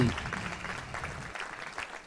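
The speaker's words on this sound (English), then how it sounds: "That's worth a round of applause." Audience applause at a chamber of commerce annual meeting, a steady wash of clapping from a crowd in a hall, continuing evenly through the whole short stretch.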